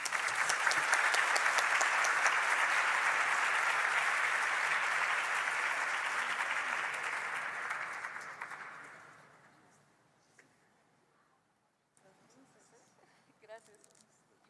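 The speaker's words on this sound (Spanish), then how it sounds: "Que se escuche fuerte el aplauso," An audience at the opening ceremony of a Model United Nations event applauds, a dense, sustained round of clapping that fades out after about nine seconds, followed by faint room noise and a few scattered sounds.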